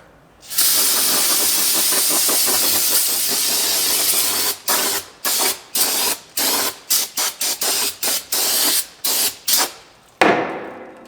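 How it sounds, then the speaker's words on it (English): Brake cleaner sprays from an aerosol can onto a Buick LeSabre transmission pan, first a long loud continuous hiss, then a rapid series of short bursts, close up and without talk. "Next, I'm going to rinse the pan."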